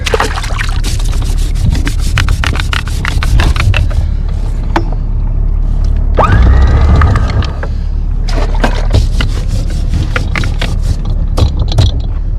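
Sand and gravel are scraped off a boat anchor by hand, a loud, rhythmic series of close rasping strokes that keeps going with only brief pauses.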